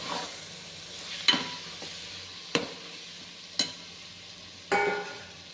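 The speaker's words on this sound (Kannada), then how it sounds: "ಇದಕ್ಕೆ ಈಗ ಹಸಿಮೆಣಸಿನ್ಕಾಯಿ ಟೊಮೆಟೊ ಹಣ್ಣು ಹಾಕ್ಕೊಳ್ಳೋಣ. ಇದನ್ನು ನೀಟಾಗಿ ಫ್ರೈ ಮಾಡ್ಕೊಳ್ಳೋಣ." Green chillies and tomatoes fry in a pan for mutton biryani, a faint, steady sizzle broken by four sharp stirring clatters spaced about a second apart.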